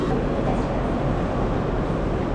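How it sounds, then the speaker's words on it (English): A train bound for Nagasaki, Japan, rolls along with a loud, steady rumble and rushing noise that fills the whole stretch without pause. "getting on the train to Nagasaki right now"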